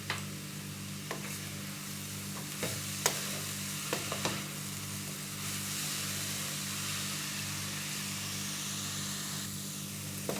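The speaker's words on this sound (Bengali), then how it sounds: "এর সঙ্গে এক চামচ ঘি মিশিয়ে দিলাম আবার একটু নেড়ে নেবো" A spoon stirs motichoor laddu mixture made with chana dal after a spoonful of ghee is added. Faint sizzling runs under a few scattered scrapes and clinks, with no talking.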